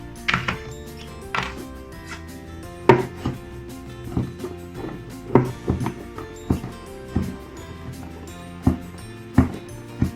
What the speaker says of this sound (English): I'm just gonna roughly chop it.